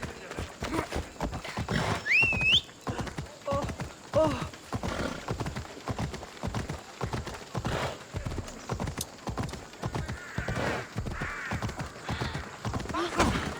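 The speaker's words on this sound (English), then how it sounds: "Heard my horse." A horse in the video game Assassin's Creed Odyssey clip-clops along in a steady, close hoofbeat rhythm that runs throughout, with a brief whinny near the start.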